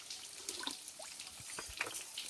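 A small forest stream trickles and gurgles faintly nearby, with soft irregular drips and bubbling over a quiet background, no voices.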